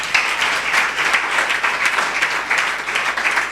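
A church congregation applauding in steady, dense, loud clapping that runs evenly throughout without a break or voices.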